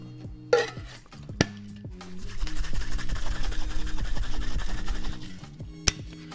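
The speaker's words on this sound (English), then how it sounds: "and then dry shake" Egg white is dry shaken in a cocktail shaker for a whiskey sour, a few sharp metal knocks followed by a sustained, rapid rattling and sloshing shake that stops with a final clink.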